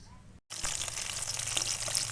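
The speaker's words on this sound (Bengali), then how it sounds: "মাছ ভেজে নিচ্ছি।" Pieces of rohu fish frying in hot oil in a pan, a steady close sizzle and crackle that starts abruptly after a brief silence and continues without pause.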